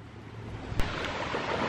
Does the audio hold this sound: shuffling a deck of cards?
no